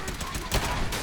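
A volley of gunfire in Fallout 4: several rapid shots blur into a dense burst with one stronger crack in the middle, loud and close, with a voice talking over them.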